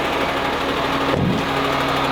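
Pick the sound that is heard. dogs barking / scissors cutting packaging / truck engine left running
truck engine left running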